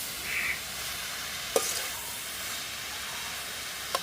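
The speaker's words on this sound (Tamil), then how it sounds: "தக்காளி பழத்தையும் சேர்த்து வதக்குவோம்" Tomatoes sauté in a pan for a Jaffna-style chicken devil, giving a soft, low sizzle broken by two sharp utensil clicks against the pan.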